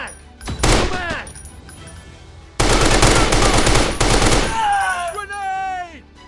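Machine gun fire in a shooting video game comes as loud, close, rapid bursts, a short one followed by a longer sustained volley, with shouting voices and whistling ricochet-like tones as it ends.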